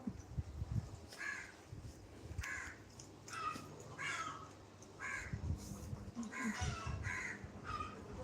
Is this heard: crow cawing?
yes